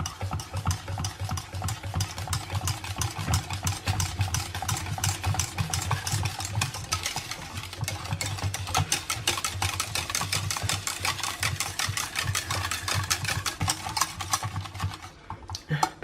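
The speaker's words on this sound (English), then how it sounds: "And then just whisk it until you've got a smooth, creamy chocolate pudding." Greek yogurt is whisked briskly into chocolate pudding in a bowl, making a rapid, continuous clatter of whisk against the bowl that runs steadily and evenly throughout.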